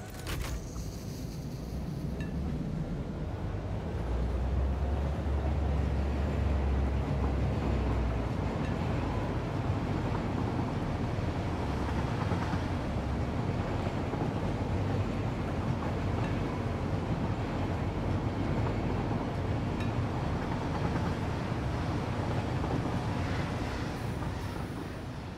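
A train in the factory-building game Satisfactory runs steadily with a continuous low rumble and rolling rail noise throughout, a heavier low-frequency surge early on, and no talking.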